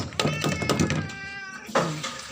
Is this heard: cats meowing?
yes